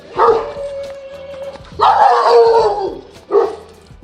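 A Fila Brasileiro, the Brazilian Mastiff, barks close and loud in three bursts, deep throaty woofs trailing into a drawn-out whining tone between them.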